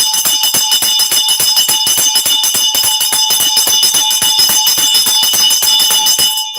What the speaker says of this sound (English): Ring the bell for the soup drinkers.